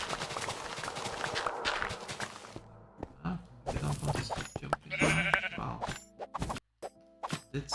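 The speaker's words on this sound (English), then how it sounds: "You naughty sheep" Blocky sheep in Minecraft bleat several times amid game sound effects, plops and footsteps, the calls coming in short bursts over a busy, uneven background.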